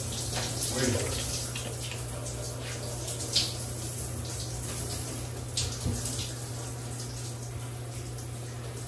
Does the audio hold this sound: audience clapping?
no